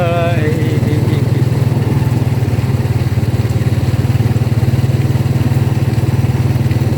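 A motor vehicle engine runs steadily while being ridden through rural farmland, a loud, constant low drone with a rhythmic pulse that continues without a break.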